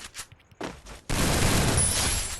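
Gunfire in a shooter video game, a few sharp shots followed by a sustained loud burst of rapid fire that fills the rest of the moment, with no talking over it.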